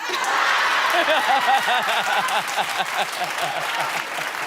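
Studio audience on a daytime talk show applauds steadily and loudly throughout, with a few chuckles scattered in the dense clapping.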